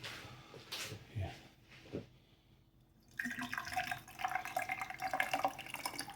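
Water poured into the tank of a Shark Steam & Scrub automatic steam mop, first a few faint drips and trickles, then a brief quiet before a steady close splashing flow.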